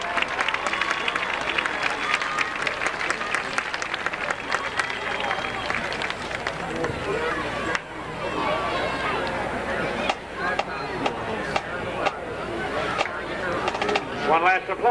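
Crowd applause for the Loudon High School Marching Band at a high school football game, a broad wash of clapping and cheering strongest early, then settling beneath an announcer's voice.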